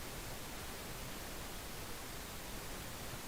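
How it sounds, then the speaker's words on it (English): A steady, even hiss of pink noise runs unchanged throughout, soft and smooth with no other sounds. "Actual generated pink noise."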